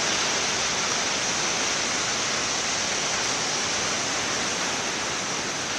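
Ocean waves after a windy day, a continuous broad rushing wash of surf that stays steady and fairly loud throughout with no distinct individual breaks, no voices.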